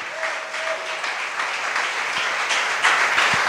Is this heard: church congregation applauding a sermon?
yes